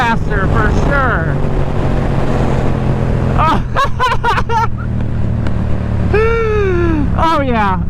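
A Yamaha R7 motorcycle with a new intake and flashed ECU accelerates hard, its engine note rising through the gears under strong wind roar, with a rider speaking at times.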